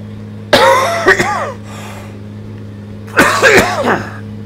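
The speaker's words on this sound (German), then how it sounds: "Diese Ficker hat gehustet." Two separate bursts of coughing from a person during a Landwirtschafts-Simulator 19 play session, fairly close and loud over a steady low hum, with a pause between them.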